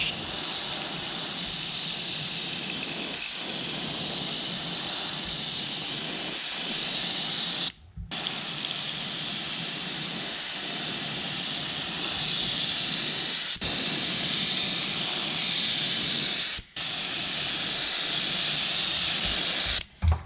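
Steady spray-can hiss as fluorescent orange paint goes onto an oak wood musky twitch-bait lure in thin coats, a continuous close, loud rush broken by two short pauses.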